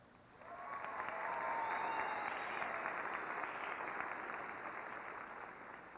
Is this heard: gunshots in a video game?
no